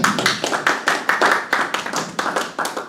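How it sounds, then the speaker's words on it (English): Clapping from a live lecture audience as a volunteer walks up to the stage, a loose, rhythmic run of fairly close handclaps with distinct individual strikes, steady and moderately loud throughout. "Give a round of applause as he comes to the stage."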